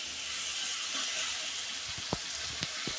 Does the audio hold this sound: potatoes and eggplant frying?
yes